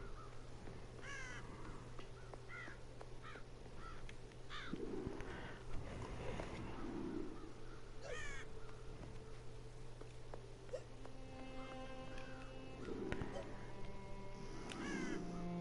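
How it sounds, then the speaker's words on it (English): Crows caw in a storybook-styled video game demo. Hoarse, wobbly calls repeat at intervals over a steady background hum, and a few tonal game sounds drift in near the end. "Oh look, they're all drunk crows."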